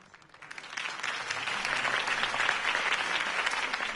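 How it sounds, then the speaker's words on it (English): Crowd applause from a Gotham City campaign rally audience after a political speech in Batman: The Telltale Series, a dense wash of clapping that swells from a quieter start and holds steady and loud throughout. "could have heard that applause"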